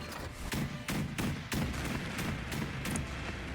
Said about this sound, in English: Frankie cannon!